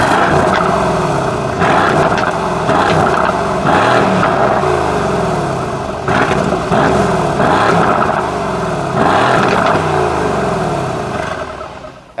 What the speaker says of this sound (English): it has that very distinctive AMG V8 sound coming from dual quad tip exhaust pipes